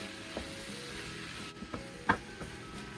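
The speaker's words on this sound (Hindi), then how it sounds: "अब इसमें बॉइल्ड मैश किए हुए पोटैटोज़ ऐड कर देंगे। अब इसको अच्छी तरह मिक्स कर लेते हैं।" Boiled mashed potatoes being stirred into a hot pan of sizzling filling for aloo paratha, a steady frying hiss broken by a few soft scraping strokes of the spoon.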